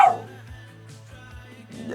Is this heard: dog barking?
yes